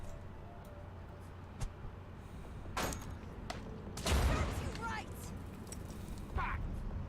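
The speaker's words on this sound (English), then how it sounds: "Let's grenade these two." Grenades go off in Mutant Year Zero, one sharp crack followed by a louder, rumbling blast and scattered debris, with a few smaller pops around them over low background noise.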